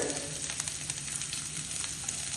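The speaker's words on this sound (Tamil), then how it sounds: "இப்போ நான் இந்த ஒரு 10 சாம்பார் வெங்காயம் கட் பண்ணி வச்சிருக்கேன், அதை போட்டுக்கலாம்" Chopped sambar onions (shallots) fry in a pan for a vendaikkai dish, giving a soft, even sizzle with faint crackles throughout, fairly quiet and close.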